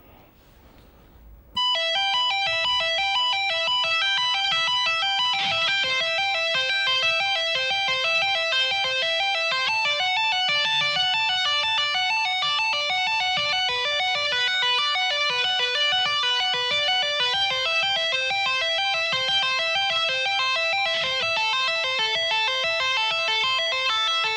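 Bright, rapid single-string tapped arpeggios on electric guitar flow continuously in a smooth, even cascade, clear and steady with a light effect on the tone.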